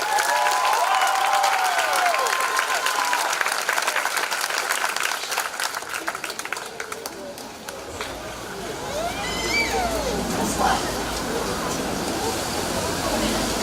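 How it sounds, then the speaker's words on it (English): Graduation audience applauding in a large hall, a dense steady wash of clapping with cheering voices mixed in, loud and sustained throughout before easing slightly midway. "Let's give him another round of applause."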